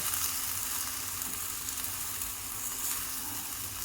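Vegetables and dalia cooking in a 3 litre kadai give a steady, close sizzle with a soft bubbling crackle throughout, without talk.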